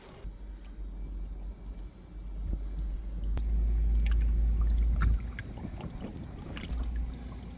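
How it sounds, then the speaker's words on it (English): An engine running at full throttle pumps water into an old leaking barge, a steady low motor drone with gushing, gurgling water that swells in the middle and then eases off. "we've got that engine turned right up, and you can see the water's going in"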